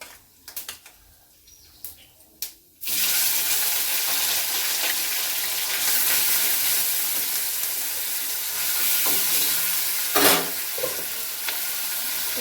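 Boiled, drained taro leaves and green chilies hit hot tempered oil in a pan with a sudden loud sizzle that keeps hissing steadily, with a few stirring scrapes after some quiet clicks at the start.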